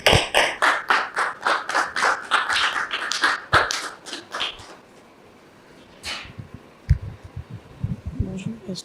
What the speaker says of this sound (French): Recevons Dame Regina Bierou sous vos applaudissements